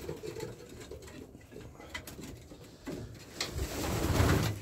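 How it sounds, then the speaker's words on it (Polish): Pigeons coo softly at close range with light pattering and fluttering movement, rising a little louder toward the end, with no voices. "Przychodzą gołębki."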